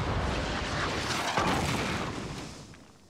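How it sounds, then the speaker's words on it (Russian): A Tiger tank's cannon fires, a heavy blast rolling out as a single deep boom, its rumble lingering and slowly fading over a few seconds, in an animated cartoon. "пушка Тигра — грозное оружие"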